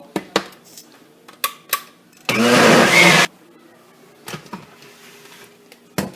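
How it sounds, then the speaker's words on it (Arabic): A kitchen blender whirs loudly for about a second while it mixes a flourless cake batter with baking powder, a dense steady roar. Clicks and handling knocks come before and after it. "كله في الخلاط، مفيش حاجة صعبة."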